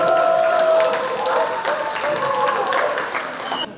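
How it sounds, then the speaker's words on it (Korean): An audience claps loudly to welcome a lecturer to a Lions Club seminar, with dense continuous applause and a few voices over it, stopping abruptly near the end. "여러분 큰 박수로 환영해 주시기 바라겠습니다."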